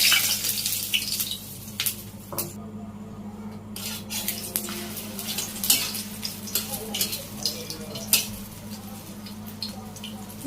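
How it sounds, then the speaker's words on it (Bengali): Eggs fry in hot oil in a wok, giving a steady sizzle up close with frequent sharp clicks and scrapes from stirring and a utensil knocking against the pan. "এইভাবে আমি সবগুলো ডিম ভেজে নিব।"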